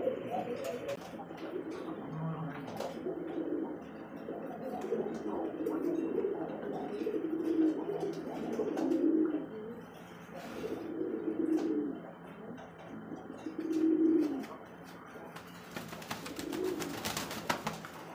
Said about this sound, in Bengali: তো দেখতে পারলেন দর্শক একজোড়া সিরাজি কবুতর